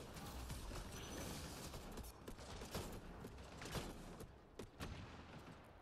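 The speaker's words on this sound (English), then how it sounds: "What the fuck was shooting me?" Rapid gunfire in the video game Mass Effect Andromeda aimed at the player, a dense, busy stream of shots and impacts throughout, fairly loud and close.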